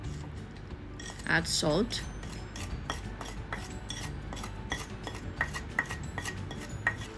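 Roasted eggplant being mixed with masala in a cooking pan, giving scraping and clinking utensil sounds against the pan, with a brief spoken line early on over steady kitchen noise.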